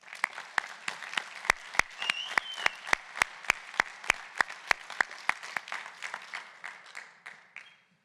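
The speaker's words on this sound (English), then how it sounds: "Please join me in thanking them with a round of applause." Audience applause at a high school National Honor Society induction ceremony: a steady crowd clapping that swells with sharp individual claps and tapers off over about eight seconds.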